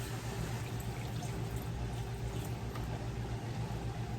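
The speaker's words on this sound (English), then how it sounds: "I'm going to add water to this to help kind of break down that beef." A steady sizzling and bubbling wash of water poured onto ground beef cooking in a hot pan, continuous and close, with a low hum underneath.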